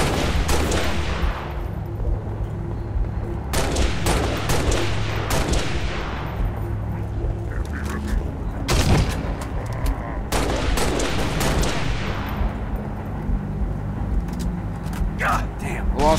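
Gunfire in the Halo Reach video game: repeated bursts of shots and loud impacts recur across the span over a constant battle din, with voices talking at times.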